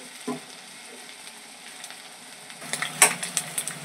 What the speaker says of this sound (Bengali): এগুলো ভাজতে একটু টাইম লাগে, গ্যাসটা একটু লোতে দিয়ে দেবো, নালে সবগুলো পুড়ে উঠবে।